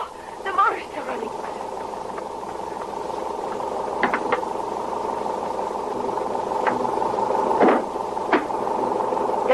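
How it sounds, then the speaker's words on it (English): A stationary motor idles with a steady mid-pitched hum and faint vibration, while people talk over it and a few brief knocks and clicks sound nearby. "Oh, the motor's still running."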